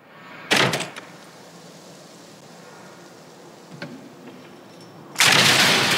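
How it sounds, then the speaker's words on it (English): A door opens in the video game Quantum Break, with a loud broadband burst at the start, a faint click midway and another loud, sustained rush of sound at the end over quiet ambience. "I'm gonna go through the door."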